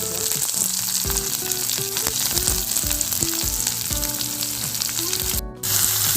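Onions sizzle in hot oil in a kadai with mustard seeds, urad dal and cumin, a steady close-up crackle broken by stirring scrapes and a brief dip just before the end.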